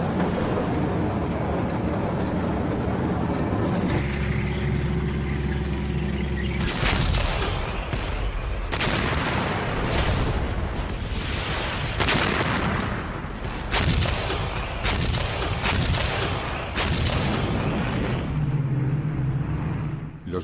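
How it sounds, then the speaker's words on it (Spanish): Bursts of German gunfire from World War II archive footage at Arnhem, with repeated loud, sharp cracks and volleys over a steady low rumble. "a medida que descendían en paracaídas fueron acribillados por el fuego alemán"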